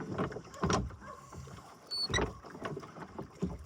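Oars of a wooden Salter rowing boat of a 100-year-old design dip and pull through reservoir water in a few slow, repeated strokes, with splashing and a creak of wood between them, close by.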